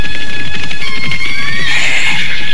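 Two horses entering a royal city in an Indonesian radio drama, with a loud whinny over rhythmic hoof thuds, rising to a bright, sustained neigh near the end.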